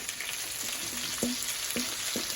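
Sausages with shallots, onions, peppers and green onion fry in a pan, a soft continuous sizzle with a few sharp spoon knocks against the pan spaced through it.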